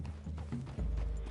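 Horse hooves clip-clop at a walk in Red Dead Redemption 2, a close, steady stream of hoof falls with a low rumble underneath and no speech.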